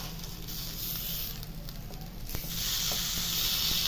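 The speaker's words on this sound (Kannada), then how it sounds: "ಈಗ ನೋಡಿ ಎರಡೂ ಕಡೆ ಫಿಶ್ ಚೆನ್ನಾಗಿ ಫ್ರೈ ಆಗಿದೆ." Fish tava fry crisping in a hot pan with spicy masala, a steady close sizzle and hiss that swells slightly louder toward the end.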